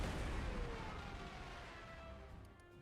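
A heavy rumbling blast from a tactical bomber attack in the Panzer Corps 2 strategy game, loud at the start and slowly fading into a dull roar, with faint clicks near the end.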